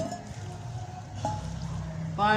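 Water pours in a brief splashing stream into a pot of salted mustard greens, with a voice speaking over it.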